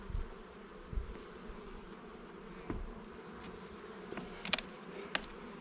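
Honey bees drone steadily around a hive while foraging on heather, a soft continuous hum with a few faint clicks and taps scattered through, no voices.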